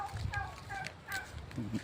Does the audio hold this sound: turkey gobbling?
yes